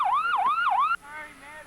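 Ambulance siren wailing loud and close near a highway crash scene, several rising-and-falling sweeps before cutting off sharply, leaving a fainter echoing tail.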